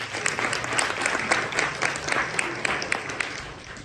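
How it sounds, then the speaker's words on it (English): A keynote audience at the MIT Sloan Black Excellence Summit breaks into dense, sustained applause, many hands clapping steadily for about four seconds. "Give yourself a round of applause"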